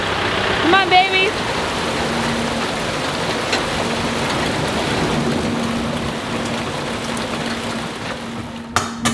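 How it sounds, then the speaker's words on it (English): Heavy rain falls in a steady broadband hiss throughout, with a few brief voices and bird-like chirps early on and a couple of sharp knocks near the end. "it's raining a little too hard now."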